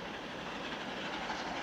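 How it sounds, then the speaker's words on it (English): Train wheels click-clacking along the tracks, a steady, continuous rumble of a moving railway carriage with no voices, heard at an even, moderate level throughout. "Elmo likes hearing the train wheels click-clacking on the tracks."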